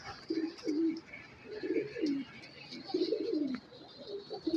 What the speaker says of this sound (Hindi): ये रहा ये कबूतर है।